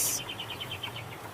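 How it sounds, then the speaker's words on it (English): A house finch sings outdoors in spring, a quick series of bright, evenly spaced warbled notes at moderate distance over a steady background hum. "That sounded like a house finch"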